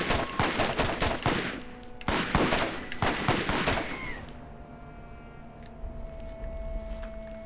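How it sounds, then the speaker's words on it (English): Assault rifle fire in the video game Borderlands: two loud, rapid automatic bursts separated by a short pause, then the shooting stops and a quieter ringing tail with a faint steady tone remains. "This assault rifle doesn't actually seem too bad"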